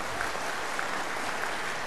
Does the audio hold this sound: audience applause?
yes